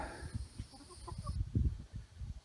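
Soft, irregular clucking from chickens close by, short low bursts with a few higher chirps over quiet background noise.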